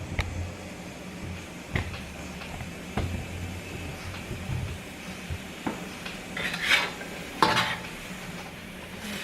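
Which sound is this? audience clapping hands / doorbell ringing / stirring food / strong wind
stirring food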